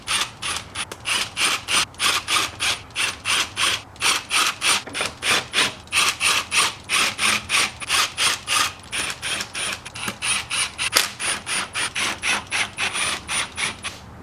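A ratchet snugs the valve cover bolts on a 2003-2010 Saab 9-3 2.0T, rapid rhythmic clicking in repeated bursts, close and alone.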